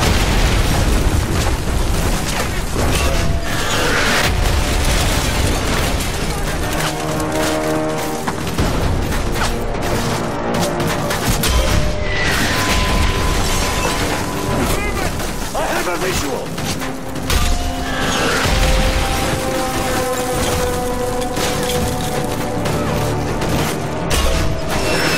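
Mortar shells burst in a Call of Duty: Modern Warfare 3 village assault, booming explosions repeating almost without pause amid dense gunfire, music and shouted commands throughout.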